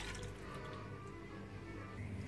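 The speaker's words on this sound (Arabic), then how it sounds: "هلأ بضيف تاني كوب من الحليب" A second cup of cold milk poured into a pot of broccoli soup, a continuous close liquid flow with light trickling and dripping, steady and moderately quiet.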